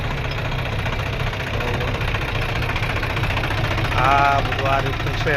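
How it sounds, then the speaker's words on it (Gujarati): A tractor engine chugs steadily at low revs while pulling an automatic onion planting machine across a field, its rhythmic knocking drone continuous beneath someone speaking close by. "આ ટ્રેક્ટર છે, આ ટ્રેક્ટર ચાલે છે"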